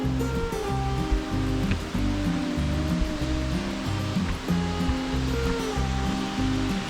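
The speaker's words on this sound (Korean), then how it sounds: "까마불 폭포에 도착을 했습니다." The Kkamaibul waterfall at Eoleumgol, Korea, roars in a steady, dense rush of water, continuous and fairly close, with no voices.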